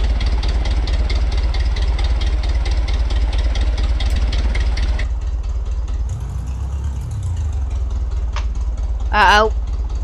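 A single aircraft engine in Brick Rigs drones steadily, buzzing loud in the first half and then softening to a lower hum, with a brief rising whine near the end and a voice speaking over it.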